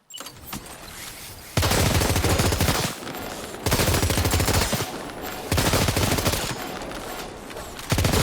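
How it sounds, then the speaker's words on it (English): Rapid automatic gunfire in Death Stranding 2: On The Beach, loud bursts of dense machine-gun fire lasting about a second each, repeating four times with short quieter gaps between. "I'm shooting these things."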